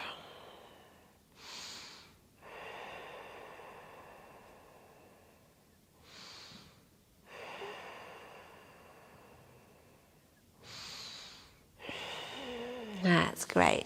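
Slow, deep yoga breathing: loud airy inhales and exhales in repeated cycles about every five seconds, close to the ear, with long soft pauses between breaths and a rustle at the end.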